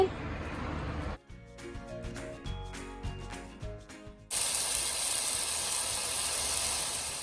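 A steak is dropped into a hot pan and starts a sudden, steady loud sizzle that continues without a break. Before the sizzle starts, a person talks over quieter kitchen clatter.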